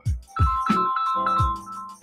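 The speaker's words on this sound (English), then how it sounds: "That's my phone." Mobile phone ringtone playing a short, bright melodic jingle of several quick notes with a ringing tail, close and clear with no talk.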